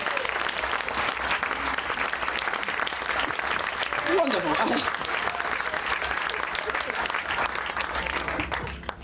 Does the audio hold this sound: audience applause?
yes